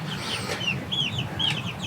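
Several chickens cluck and chatter nearby in short, overlapping calls over a low background murmur.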